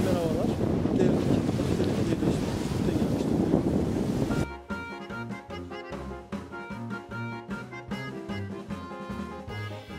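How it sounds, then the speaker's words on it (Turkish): Waves on Lake Ohrid are heard with strong wind rushing across the microphone for about four seconds. Music then takes over and plays steadily through the rest. "Yalnız çok dalga var gölde."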